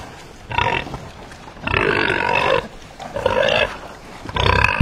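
Pigs on a pig-breeding farm give short bursts of grunting and squealing, four separate bouts with brief quieter gaps between, fairly close and loud with no talk over them.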